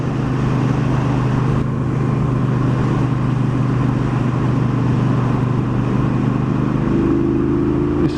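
Engine of a 2018 Triumph Bonneville Bobber motorcycle while riding at steady cruising revs, a continuous close low drone with wind rush, a slight rise in pitch toward the end.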